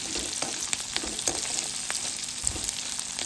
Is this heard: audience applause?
no